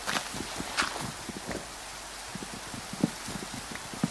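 Minecraft rain falls at night as a steady, soft hiss, with sparse light taps and footstep-like clicks scattered through it and no talking.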